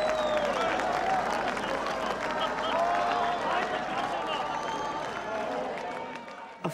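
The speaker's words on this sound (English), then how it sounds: "West Berliners had come to the border and they were applauding us" West Berliners at the border in 1989 applaud arriving East Germans, sustained crowd clapping mixed with excited voices and talk, fading somewhat toward the end.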